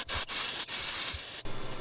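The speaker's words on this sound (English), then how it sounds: "I'm going to put a little bit of spray on it, some carb spray and some cleaner to try to break up this goo a little bit" Bursts of carb cleaner spray hissing onto a stuck fuel injector in a Mercedes OM642 diesel engine, several close, loud blasts of about half a second to a second each, separated by brief pauses.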